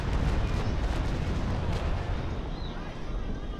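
Ship cannons fire during a naval battle video game, a dense, continuous roar of rumbling booms and blasts, loud and sustained throughout with no clear gaps.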